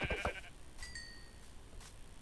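Goat bleating in the video game Minecraft: a couple of short, wavering bleats up close, with brief scuffling noises before them, and no speech.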